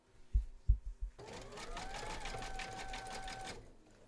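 An embroidery sewing machine stitches a unicorn's horn on an in-the-hoop teddy and unicorn bag, starting after a few soft knocks and then running in a steady, rapid mechanical chatter close by for about two seconds.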